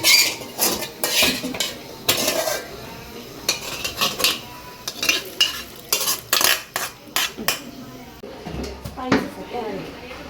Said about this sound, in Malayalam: തിളയ്ക്കുന്നുണ്ട് കേട്ടോ.